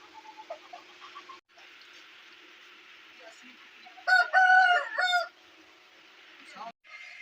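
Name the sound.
Aseel roosters crowing and clucking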